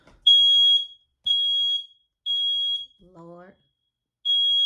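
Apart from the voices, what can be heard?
smoke detector alarm beeping, set off by burning sage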